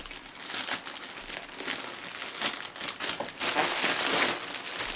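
Plastic packaging bag crinkling as it is opened during a VR headset unboxing, irregular rustling and crumpling bursts close up for about five seconds, with no talk.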